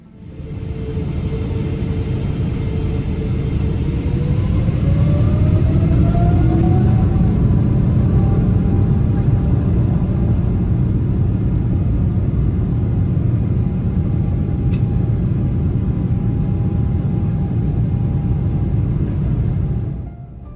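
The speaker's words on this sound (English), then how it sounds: "The best sound on earth and takeoff is coming up next." Turkish Airlines Boeing 777 engines roar steadily during the takeoff roll, a loud, sustained low rumble heard from inside the cabin with a rising whine running through it, and no talking.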